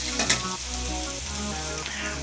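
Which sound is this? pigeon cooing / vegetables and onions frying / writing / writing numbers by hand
vegetables and onions frying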